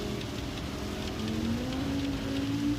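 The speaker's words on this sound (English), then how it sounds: "when the rain comes, it is torrential." Heavy rain hisses steadily over a racing car's engine at night in an endurance racing video game at Autopolis International Racing Course, with a rising engine tone underneath and no talk.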